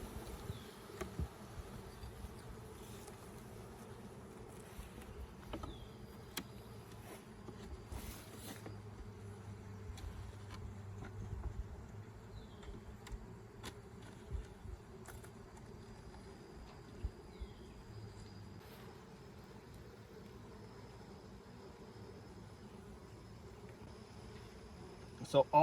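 Honeybees buzz around a hive in a faint, steady, low drone that continues throughout, with occasional light clicks and knocks nearby.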